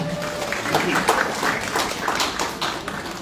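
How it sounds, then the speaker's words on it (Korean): An audience applauds a guest at a Korean folk painting (minhwa) exhibition ceremony in an art gallery, a steady patter of many hands clapping close by for a few seconds. "박수 부탁드립니다"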